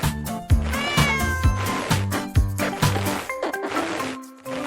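A cat meows repeatedly over a bouncy musical backing with a steady beat, the meows loud and close.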